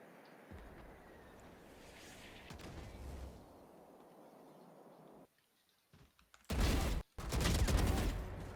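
Gunfire in the tactical shooter Valorant: quiet, muffled shots and game noise, then a short silence, then two loud close bursts of rapid fire near the end.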